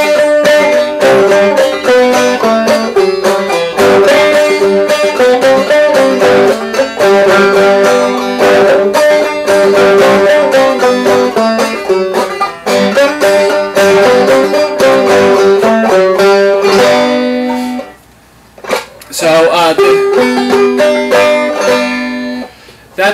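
Black Eyed Susie picked on a Wildwood Wenga banjo with a magnetic resonator fitted, a bright, steady stream of plucked notes played solo, loud and close, with a brief pause near the end.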